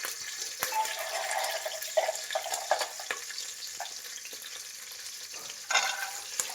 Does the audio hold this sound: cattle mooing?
no